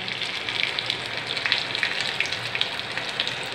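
Curry leaves and sliced small shallots frying in hot oil, a steady close sizzle with scattered sharp pops and crackles throughout.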